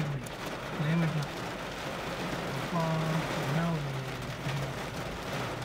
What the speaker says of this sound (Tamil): என்ன ஒன்னா ஐஸ் கட்டி மழை அடிக்குது